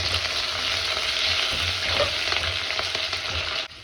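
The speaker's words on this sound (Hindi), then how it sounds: "गर्मा गर्म तेल में सबसे पहले जाएगा जीरा। जीरा हल्का ब्राउन होते ही अदरक और लहसुन।" Cumin, ginger and garlic fry in hot oil, a steady close hiss of sizzling with light stirring scrapes that stops abruptly near the end.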